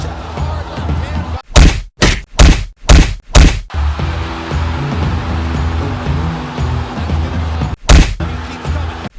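Heavy thudding boxing punches from a Manny Pacquiao fight land in a rapid cluster of five loud impacts, then one more blow after a pause, over a roaring arena crowd.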